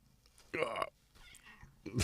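A nearby cat gives a short, clear meow, followed a moment later by a second, briefer cry. Soft indoor background noise sits underneath.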